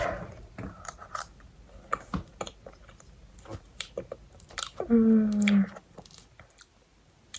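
Someone bites into a banana at home in the morning, a few soft close mouth clicks and chewing bursts spread across the stretch, with one louder burst near the end; no talking.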